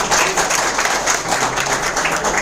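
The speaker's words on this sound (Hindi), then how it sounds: "आप सबके लिए एक जोरदार तालियां चाहूँगा" An audience at a business seminar breaks into applause, a dense, fairly loud wash of many hands clapping continuously for a couple of seconds, no speech over it.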